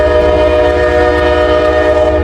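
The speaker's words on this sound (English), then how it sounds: "This is a daily train coming from Chicago to Cincinnati." A daily train running from Chicago to Cincinnati rolls past with a loud, sustained horn blast over a deep, steady rumble, close by and with no voices.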